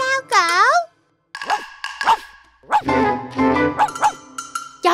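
A dog in a children's cartoon gives a sharp whining yelp, then short barks and yips among children's voices talking.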